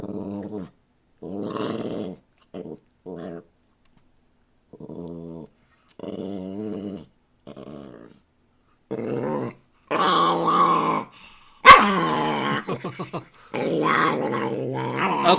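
A dog growls in repeated low rumbling bursts, close and fairly loud, broken by short pauses and ending in sharper yips and whines.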